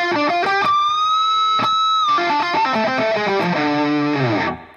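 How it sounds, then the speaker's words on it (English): Heavily distorted electric guitar plays a run of notes with pinch harmonics that ring out with squealing high harmonics, sustaining before fading at the end. "So that's pinch harmonics or artificial harmonics"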